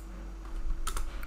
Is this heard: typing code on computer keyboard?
yes